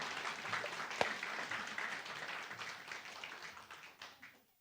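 A church congregation at a Sunday worship service gives brief applause, moderately distant and faint, swelling then fading away over a few seconds.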